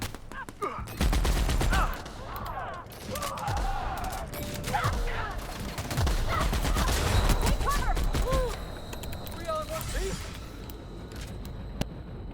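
Grenades and mines go off in The Outer Worlds amid a dense, continuous barrage of rapid gunfire, bursts and explosions, loud and close, with scattered whooshes and voices mixed into the combat.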